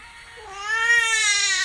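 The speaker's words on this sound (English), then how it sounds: "Sorry if you hear my baby in the background." A baby vocalizes in the background of a room, a rising, wavering cry-like babble that swells from faint to fairly loud and holds for over a second, with no one talking.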